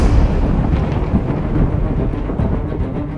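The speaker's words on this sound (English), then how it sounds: "I cast Thunder Spell." A thunder spell effect in an animated Dungeons & Dragons comedy rolls out as one loud, sustained rumbling boom with a dense low roar across the whole moment, heard alone without talk.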